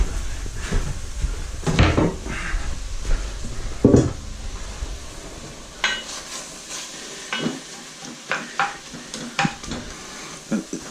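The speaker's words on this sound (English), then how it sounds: "It will start being a sizzly, fry sound." Minced beef sizzles and fries in a pot while a utensil stirs and scrapes, with occasional clanks of cookware; no talking.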